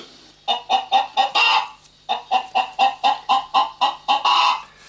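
Electronic chicken clucks from a prototype Arduino card-game toy repeat in quick rhythmic bursts, a short series, a pause, then another run of clucks, loud and close.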